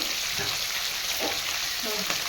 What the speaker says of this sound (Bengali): মাছগুলো এক করে ভেজে আমি তুলে নিচ্ছি